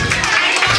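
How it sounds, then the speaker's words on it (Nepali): Audience clapping and cheering for dancers at a cultural program in Sipahidhura, a steady crowd wash with no break across the short moment. "हामी फेरि पनि एकपल्ट उहाँहरूको निम्ति ताली मार्नेछौँ"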